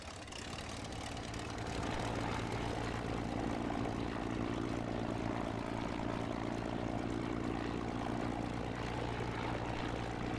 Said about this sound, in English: our engine finally roars to a smoky life